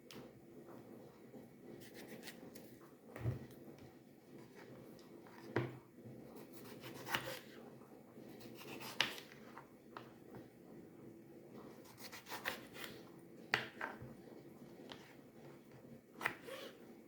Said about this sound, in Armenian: Հիմա այդ պոմիդորը կտրենք